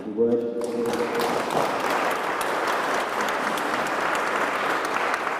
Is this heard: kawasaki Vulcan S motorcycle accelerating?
no